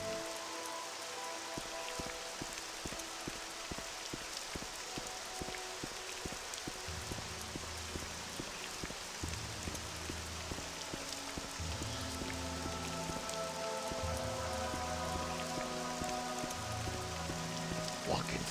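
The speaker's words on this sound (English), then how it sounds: "I just wish it wouldn't rain so damn much." Rain in the video game Morrowind patters steadily as a soft, even hiss with close drips, with a low droning game score beneath and no one talking.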